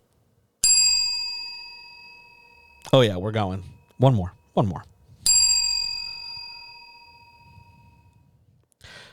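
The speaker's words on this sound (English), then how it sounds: "here in my hand, I have the rant bell." A hand bell rings twice, each strike a bright sustained ding that slowly fades. Between the two rings a person speaks briefly.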